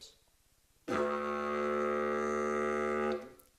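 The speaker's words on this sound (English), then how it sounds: "we produce the drone by buzzing our lips against the mouthpiece of the didgeridoo" Didgeridoo played with buzzing lips on the mouthpiece, holding a single deep, droning note for a little over two seconds, steady and loud at close range, then cutting off sharply with no voices.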